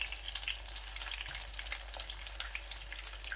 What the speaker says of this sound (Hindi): तकरीबन 2-3 मिनट टिक्किया को ऐसे फ्राई होने के बाद आपने